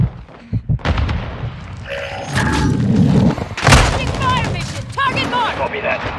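Mortar strike explosions in Modern Warfare II in an urban market setting, heavy booming thuds and blasts rolling over several seconds amid game effects, with bursts of rumble and a loud impact near the middle.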